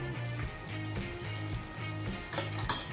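Butter melting and shallots frying in a pan for a mushroom duxelles, giving a steady close sizzle with light stirring and scraping noises throughout, no voices present.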